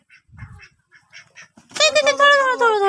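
Domestic ducks in a village coop are caught by hand, sending out faint scattered calls first, then a loud, close burst of harsh quacking in the last second.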